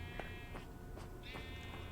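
Sheep in a Minecraft wool farm bleat faintly in the game, a few soft bleats mixed with quiet tones and background ambience.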